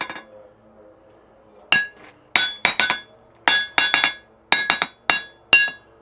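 A hammer taps on an anvil standing on its stand, about a dozen sharp ringing metallic strikes in quick irregular bursts, close and clear, after a quiet start.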